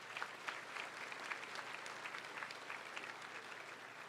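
Applause from a large audience at a spring university commencement ceremony, with steady, dense clapping throughout, fairly soft and distant in a big hall.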